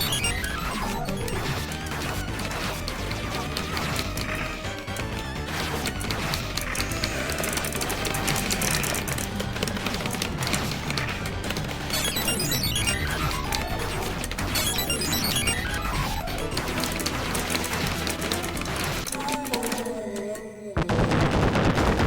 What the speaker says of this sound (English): He's got like a grenade launcher thing on that gun